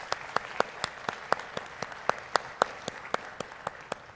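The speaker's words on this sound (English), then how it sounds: "please give them a round of applause for all they've done" Sparse applause from a church synod audience, a few hands clapping in a steady, scattered rhythm at moderate distance, fairly quiet with no talk over it.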